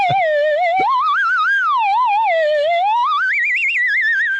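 A voice imitates eerie UFO noises, a continuous warbling whistle-like tone that glides up and down with wobbling vibrato, loud and close, mimicking a slow knuckleball pitch during a baseball broadcast.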